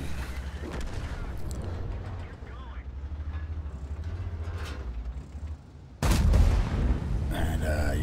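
Tank cannon fire in a World of Tanks style battle involving an E75 on the Ghost Town map, with a low rumbling engine bed and a sudden heavy boom near the end, under steady commentary.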